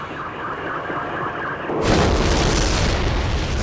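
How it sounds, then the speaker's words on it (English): A huge explosion strikes the Japanese submarine I-52, dropped as a new U.S. weapon. A sudden heavy blast bursts out of a low background rumble and settles into a loud, sustained roaring wash. "A huge explosion was heard"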